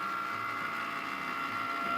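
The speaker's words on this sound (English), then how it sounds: "now what I do is I push go on the Cricut Maker." A Cricut Maker runs steadily as it cuts vinyl song titles, a continuous mechanical whir with a thin tonal whine, close and moderately loud with no voices.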